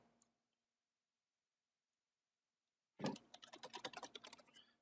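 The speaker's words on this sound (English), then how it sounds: "All right, start typing again." Typing on a computer keyboard during an Adobe Illustrator CS6 type-on-a-path session: after near silence, a burst of rapid, close, crisp keystrokes rattles on for the final couple of seconds.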